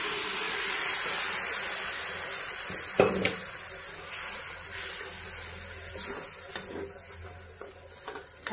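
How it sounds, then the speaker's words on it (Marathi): Water poured into a pan of chana masala with boiled chickpeas sets off a steady hiss and sizzle, broken by several sharp spoon knocks and stirring clatters against the pan. "पाणी पण असं टाकून घेऊ ह्याच्यामध्ये।"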